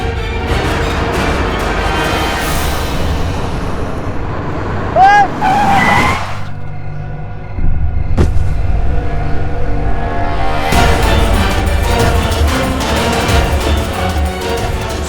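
A car speeds in and brakes hard before striking a person, with a loud close tire squeal and skid followed by a sharp impact, then engine rumble and voices.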